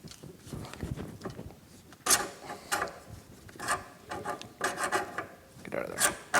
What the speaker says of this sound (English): we just more or less pull out the bolts that hold the radius rods in